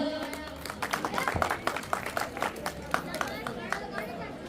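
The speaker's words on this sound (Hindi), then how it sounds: "शानदार बच्चों के लिए तालियां" Applause from an audience for children performing on stage at a Ram Leela drama during Navratri, dense clapping mixed with crowd chatter and hubbub throughout.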